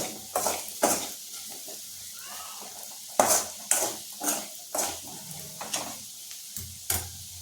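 Potatoes tossed with salt in a pan for a fried potato dish, a spatula clinking and scraping in regular strokes over a light sizzle, close and quiet without speech.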